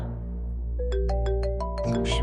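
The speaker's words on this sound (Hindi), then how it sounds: "शाज़िया का फोन आ रहा ह" A mobile phone rings with an incoming call: a melodic electronic ringtone of short repeated tones climbs in a quick pattern, heard clearly over a low background hum.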